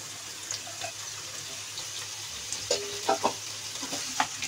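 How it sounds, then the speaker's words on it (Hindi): Potato and cauliflower pieces drop into hot oil in a pan and fry, a steady soft sizzle with a few brief splashing bursts near the end. "सबसे पहले मैं इसमें ये आलू डाल दूंगी और साथ ही मैं इसमें ये गोभी डाल दूंगी"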